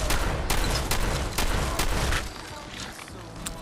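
Gunfire in the video game Fallout 4 VR: a dense, rapid volley of loud shots in quick succession, with the barrage thinning out toward the end.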